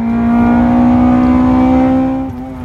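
A Honda Integra engine holds a loud, high steady rev with a strong harmonic drone, close by, then drops off near the end, no talking.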